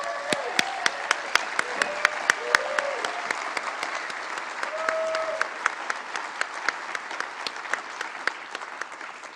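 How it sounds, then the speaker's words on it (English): At a gathering held at the Getty Center, an audience applauds steadily, with sharp individual claps standing out from the wash and brief voices heard beneath the clapping. "So let's give him another round of applause."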